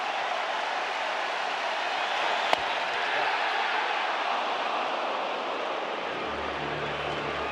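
A Wrigley Field baseball crowd cheers during a Cubs versus Padres Wild Card playoff game, producing a broad, sustained roar with one sharp crack early and a low hum entering near the end.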